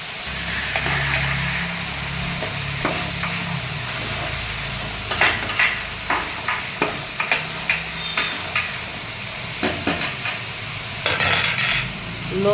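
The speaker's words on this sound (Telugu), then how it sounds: "మీడియం ఫ్లేమ్లో పెట్టి అట్లా వేయించుకుంటూ ఉండాలి." Mint leaves fry on a medium flame for veg biryani, giving a steady sizzle throughout. Toward the end, sharp metal spoon scrapes and taps against the pan come in a loose rhythm, loud and close, with no talking.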